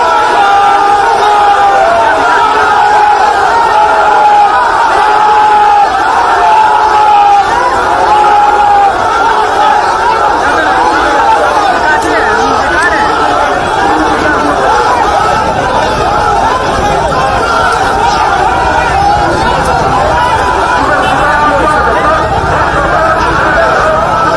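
Loud, dense crowd of Trinamool and BJP party workers scuffling in Barasat in front of police, with constant overlapping shouting, abuse and chanted slogans forming an unbroken roar.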